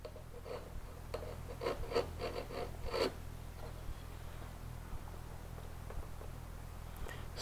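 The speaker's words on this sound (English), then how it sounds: "I've got to feel the side of that original pin with my chisel." A chisel pares a wooden drawer pin in a quiet workshop, giving a series of soft, close scraping strokes in short bursts over a low steady hum.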